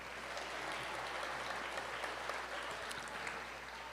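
Crowd applause during an eighth grade promotion ceremony in 2024, dense continuous clapping from many people in a large room, steady and unbroken throughout.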